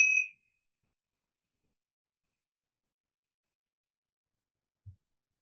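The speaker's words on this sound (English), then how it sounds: "And we'll just do the bells just so we can have a little quietness." A single bell rings once to call for quiet before a reading at a public lecture. The bright ding cuts off quickly and is followed by near silence, broken only by a faint low thump near the end.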